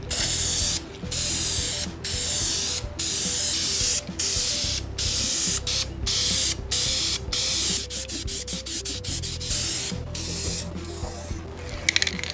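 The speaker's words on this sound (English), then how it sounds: "Alright, and let's get to painting." Aerosol spray paint can hissing onto an MG valve cover in repeated close bursts of a second or so each, separated by short gaps and the rattle of the can.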